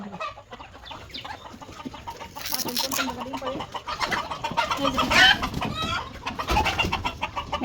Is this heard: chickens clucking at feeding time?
yes